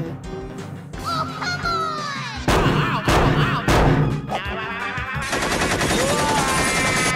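Shotgun blasts in an animated cartoon: loud bursts of gunfire mixed with cartoon voices, squawking and busy music throughout.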